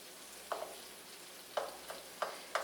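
Onion softening in butter in a pan on moderate heat, heard as a quiet background sizzle broken by a few soft stirring scrapes spaced about a second apart, with no voices.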